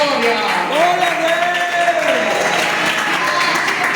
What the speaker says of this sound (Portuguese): bater aquela salva de palmas bem alegre, bem avivada para o Senhor